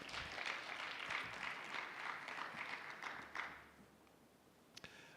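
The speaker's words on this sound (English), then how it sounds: "I think we should give them a round of applause." Audience at an Indigenous Knowledge technology innovation investment summit giving a round of applause to department partners, a fairly faint, steady patter of many hands that fades away toward the end.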